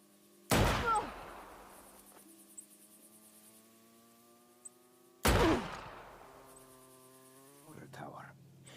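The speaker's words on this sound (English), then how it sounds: "In Just Cause 3, shooting an NPC in the leg will make them stumble and lose balance on the first hit" Two loud, sharp gunshots from a Just Cause 3 video game, spaced several seconds apart, fired at a character's legs, each followed by a decaying ring over a steady background hum.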